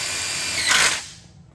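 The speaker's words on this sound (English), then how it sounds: "You are going to screw this down just like how you did the other interior channel." Power drill driving a screw into a metal bench channel, a short close whine that surges in pitch as the screw seats and then winds down, heard alone.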